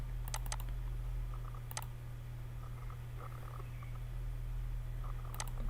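Keys clicking in scattered bursts on a computer keyboard while an Excel function is typed into a spreadsheet cell, soft taps over a steady low electrical hum, no voices.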